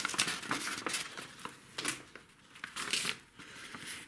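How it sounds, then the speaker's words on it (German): A sheet of paper being folded by hand while building an ant starter nest, a close series of crisp crinkles and creases in irregular bursts, quiet and alone. "So, jetzt faltet man dieses Blatt Papier."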